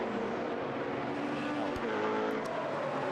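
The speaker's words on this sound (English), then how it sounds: "111, that's the car with the Australian Liam Talbot at the wheel." A GT race car in an endurance race at Monza passes on the track, its engine a steady loud roar that swells slightly partway through, with no voices over it.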